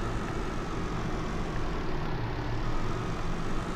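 A truck cruising in Farming Simulator 19 after leaving a tractor and heading back to the farm, giving a steady, low, droning engine hum with broadband road noise, moderately loud and unchanging throughout.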